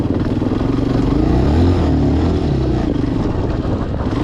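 A Chinese dual sport motorcycle rides slowly through snow, its engine running steadily and loud up close with an uneven, chugging low rumble that holds throughout.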